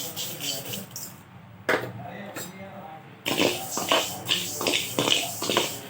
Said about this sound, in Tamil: அதே பேனில் அரிசியை வறுத்து எடுத்துக்கிறேன்.